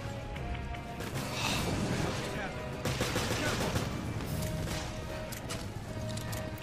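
Rapid machine gun fire in the survival horror game Resident Evil Revelations during a final boss fight, a dense continuous rattle of shots with crashing effects layered over game sounds.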